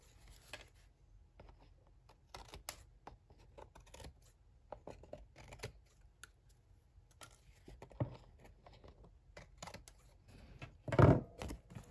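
Scissors snip through paper scraps while trimming mini album covers, a run of quick dry cuts and rustles at close range with a louder crunch near the end, no talking.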